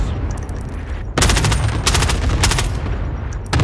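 Rapid automatic gunfire in a shooter video game, starting abruptly after a quiet moment and continuing in loud repeated bursts, fairly close and with no talk over it.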